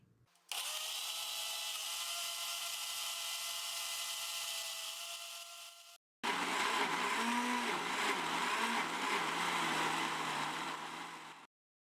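An electric blender grinds ginger with salt and water into paste, two loud, steady whirring runs split by a brief pause, the second run rougher and wavering as the blade churns the thick mixture, close up with no voices.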